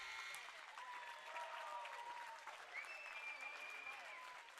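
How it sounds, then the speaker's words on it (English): Fans applaud in a gym at a boys high school basketball tournament game as the teams head to the locker room at halftime. The clapping is soft and distant, with scattered shoe squeaks and crowd murmur. "getting a big round of applause from their fans as they take a 16-point lead into the locker room"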